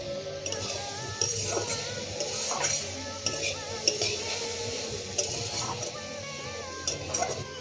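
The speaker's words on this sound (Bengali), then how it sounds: "খুলে এবারে একটু নেড়ে দেব।" Carrot halwa is stirred in a pan, with repeated clinks and scrapes of a spoon against metal over a low simmering sizzle, close and fairly quiet, with no voices.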